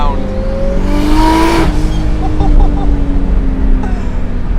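A 500 hp Nissan 240SX with a GT-R engine swap, set up for old school road racing, roars loudly as it accelerates, its engine note rising through a gear change with a continuous dense rumble.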